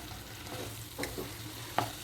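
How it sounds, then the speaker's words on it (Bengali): A spoon stirring a cooking curry with oil separating in a pan, soft scraping strokes over a faint sizzle, with two brief clearer scrapes near the end, quiet and close. "তরকারিটা একদমই মজে গেছে যে তেলও বেরিয়ে এসছে এটাকে আর একটু নেড়ে চিড়ে দিই"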